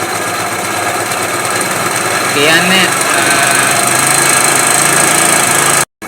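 Motorcycle engine revving steadily while the carburetor fuel mixture is loosened during a tune-up, a loud continuous drone with a brief pitch rise midway, close to the microphone and cutting off abruptly near the end.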